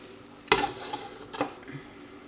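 Pancake batter hits a heated pan with a sharp sizzle, followed by quieter sizzling and a second soft burst of frying, close and fairly faint, with no talking.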